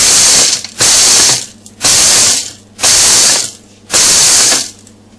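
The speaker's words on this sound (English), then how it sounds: "just use a bowl and a rolling pin and just crush it like that" Treats are crushed with a rolling pin inside a covered bowl, making five loud, rough grinding rattles about a second apart, each cut off by a short pause.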